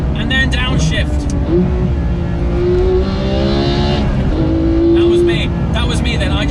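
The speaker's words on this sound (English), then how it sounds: "So sport button on, auto rev match, and flat shift. Flat shift! And then downshift." Porsche GT3 engine roaring loud and sustained, with rising revs through a flat shift, a brief dip, then a blipped rev-matched downshift, under a voice.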